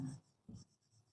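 Pen or marker strokes write numbers on a board during a math lesson, two or three short, faint scratchy strokes separated by brief pauses.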